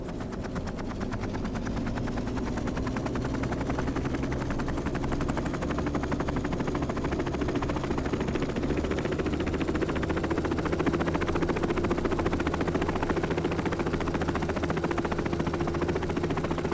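Gyrocopter engine in The Last Caretaker game, a continuous loud droning whir with a rapid chopping pulse that holds steady throughout, alone with no voices.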